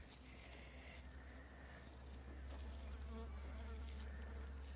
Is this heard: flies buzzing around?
yes